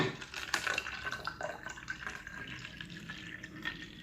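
Tap water runs steadily from a faucet into a bottle being filled about three-quarters full, a continuous splashing, gurgling flow heard close up with no talking.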